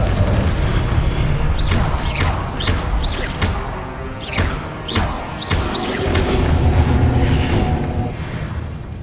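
In the Hogwarts Legacy video game, the Confringo fire spell sets off a rapid series of heavy booms and crashing impacts, several blasts in quick succession, loud and close with rumbling between hits.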